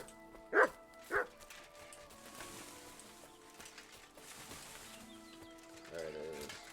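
A dog in the video game Kingdom Come Deliverance 2 gives two sharp, close barks, then quieter whimpering yips follow over a faint background ambience.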